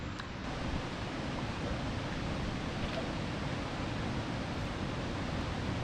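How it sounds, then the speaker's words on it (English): Burgess Falls waterfall roars as a steady, dense rush of falling water, even and unbroken, heard from a moderate distance with no voices. "The sound of the waterfall was getting louder."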